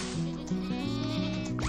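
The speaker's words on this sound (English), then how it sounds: "Probably have to drive over here and get the goats." Goats on a farm bleat in quick overlapping calls, close and moderately loud, with a short break between bursts.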